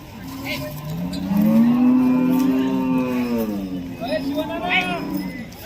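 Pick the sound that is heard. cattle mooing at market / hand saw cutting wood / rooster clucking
cattle mooing at market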